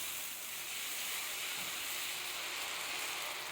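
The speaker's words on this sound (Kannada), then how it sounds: "ಇನ್ನೇನು ಕುಕ್ಕರ್ ಕೂಗ್ತು" A pressure cooker on a home kitchen stove vents steam in a steady, loud hiss that runs unbroken from start to finish, with no pauses.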